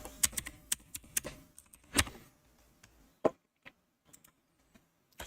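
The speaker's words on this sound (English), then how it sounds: "My typing is bad today" Computer keyboard typing, keys struck in irregular bursts and isolated taps with pauses between, fairly close but quiet, no talking.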